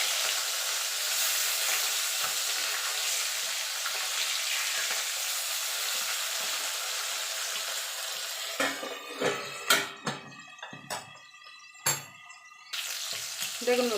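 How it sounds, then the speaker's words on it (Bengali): Soft bhola fish pieces frying crisp in hot oil, a loud, even hiss and crackle close by that later breaks into a few sharp utensil clinks and clatters against the pan. "মাছগুলো আমি একটু কড়া করেই ভাজবো, কারণ ভোলা মাছ একটু নরম তো, একটু কড়া করেই ভাজতে হয়।"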